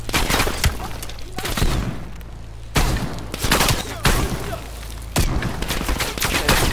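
Shotgun blasts from the video game Call of Duty Cold War, a set of loud, heavy booms in bursts with short gaps between them, and a little talk mixed in.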